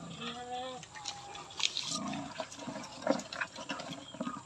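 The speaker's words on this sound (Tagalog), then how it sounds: "Kahit po breed na baboy, pwede po itong pagkain ng kangkong." Pigs eat kangkong water spinach, grunting and snuffling in short bursts with wet chewing and splashing sounds close by, while a person talks over the feeding.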